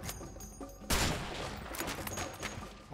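Shotgun fire in the co-op video game A Way Out: a few sharp, close blasts and a burst of gunfire, fairly faint overall, with a loud shot at the very end.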